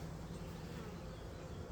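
Honey bees hum at an opened hive during an early-season mite check, a faint, even, continuous drone with no voices.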